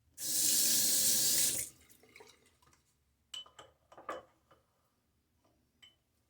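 Tap water gushes loudly into a shaving bowl for about a second and a half, then stops, followed by a few light clinks and taps of shaving gear against the bowl.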